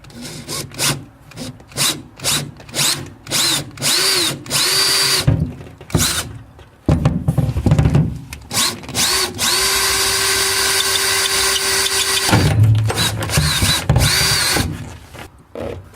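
A power drill works on a ute in repeated short whirring bursts, then runs in longer sustained stretches, close and loud with clattering handling noise between.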